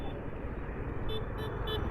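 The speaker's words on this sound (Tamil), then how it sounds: "டிராஃபிக் ஃபுல்லாக இருக்குங்க" Steady roar of heavy traffic on a national highway near Keeranur in Tamil Nadu, with car horns tooting in short bursts over the continuous engine rumble.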